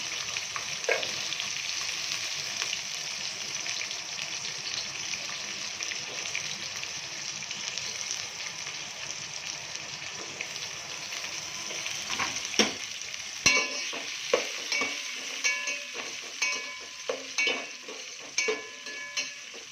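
Onion and green chillies fry in a pan with a steady, close hiss, broken in the second half by scraping stirs and clinks of a utensil against the pan.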